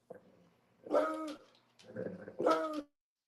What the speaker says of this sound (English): dog is howling in the room